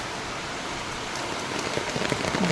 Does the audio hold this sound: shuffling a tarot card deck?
no